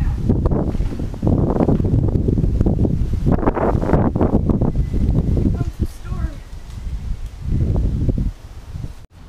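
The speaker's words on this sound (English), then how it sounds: "It is really getting windy now. Like, I mean, really windy." Strong gusting wind during a Toronto storm buffets the microphone in loud, rumbling roars, nearly continuous with a short lull before a final gust.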